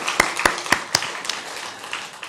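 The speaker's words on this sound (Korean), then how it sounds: "우리 하나님께 영광의 박수를 올립니다." A church congregation in a Korean worship service claps. Several sharp, distinct claps come in a quick rhythm at first, then thin into softer, scattered clapping.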